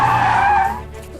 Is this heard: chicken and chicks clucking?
no